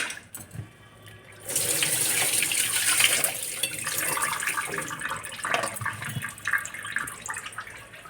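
Spices washed under a running kitchen tap, water gushing steadily into a sink at close range with shifting splashes as the hands move through the stream.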